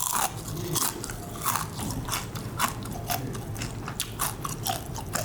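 Crispy fried chilgae crab is bitten and chewed up close, producing repeated crunchy snaps and crackles at an irregular rhythm with no talking over them.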